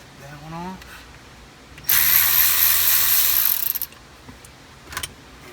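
A ratchet spins out a bolt holding the clock spring on a Ford steering column. A sustained, loud burst of fast ratcheting clicks runs for about two seconds, then trails off into a few quieter clicks, with brief speech before it.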